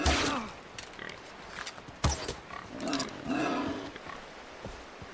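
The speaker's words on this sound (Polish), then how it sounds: "W każdym razie to na pewno są dziki." Angry wild boars in the video game Far Cry 3 grunt and squeal in harsh, rough bursts, some loud and sudden, others lower and rumbling, over game ambience.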